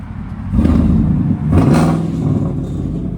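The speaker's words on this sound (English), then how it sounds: "Landon, do a quick rev real quick." Engine of a lifted 2017 Chevrolet Silverado 1500 LT Z71 4x4 with a 5.3L V8 on 37-inch tires, revving loudly nearby in two strong swells that settle into a steady heavy rumble.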